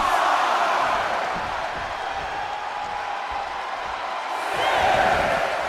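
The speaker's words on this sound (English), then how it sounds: "Packed crowd on their toes." Packed arena crowd in the WWE 2K25 wrestling video game, a steady broad roar of cheering that swells louder near the end as the action heads outside the ring.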